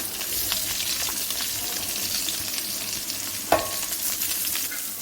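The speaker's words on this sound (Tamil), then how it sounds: "நல்லா வதங்கல் வரைக்கும் கிண்டுவோம்." Garlic and black pepper sizzle steadily in hot oil in a pan while being stirred, with one sharper scrape of the spoon partway through.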